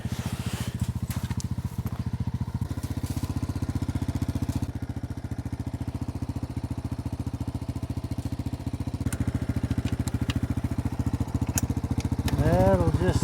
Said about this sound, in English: I'll let the four-wheeler do the work